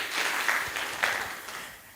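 An audience at a Kenyan ward candidates' debate claps in short bursts, fairly soft and a little distant, fading out toward the end.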